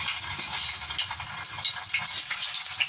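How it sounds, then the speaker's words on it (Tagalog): Egg frying in a pan, cooked lightly before going into an egg adobo with vegetables: a steady close hiss and crackle of oil, continuous and even throughout with no talk. "So ito yung itlog, iprito natin siya muna"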